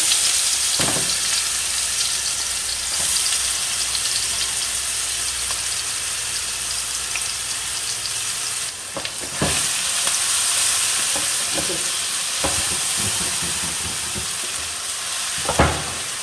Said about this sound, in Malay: Minyak dah panas, Aunty masukkan bahan-bahan blend tadi.